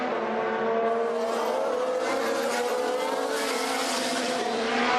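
Formula 1 race cars from the 2018 season roar past at full speed, a loud, continuous high-pitched engine whine holding steady for several seconds with no talk.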